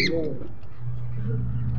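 Racing pigeons cooing at a loft, a low steady coo running through most of the clip with some faint chirps, while people talk nearby.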